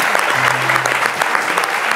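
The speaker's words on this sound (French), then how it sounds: "On peut applaudir à la mémoire de Isaïe Biton Koulibaly." Loud, dense audience applause during a love-themed quiz show, many hands clapping steadily and close for the whole stretch, with a faint voice briefly underneath.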